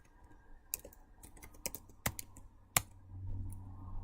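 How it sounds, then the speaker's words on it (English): Typing on a computer keyboard while entering text in the NeoVim editor: irregular sharp key clicks, close and clear, a quick scatter of taps with a few louder strokes, no talking. "you can just start typing hello"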